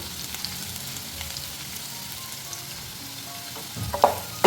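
Onion, green chilli and curry leaves sauté in coconut oil for bitter gourd theeyal, a steady close sizzle with a few scraping stirs and a louder clatter near the end.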